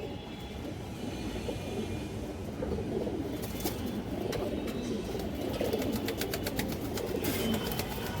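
Domestic high-flyer pigeons coo softly and steadily against a low background hum, with faint fluttering and shuffling close by.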